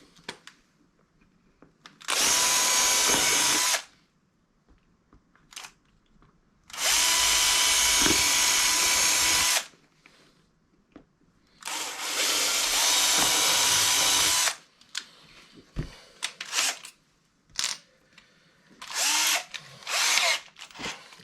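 A power drill bores holes into a carbon windsurf harness in three sustained high whining bursts of a few seconds each, followed by lighter handling clicks and taps.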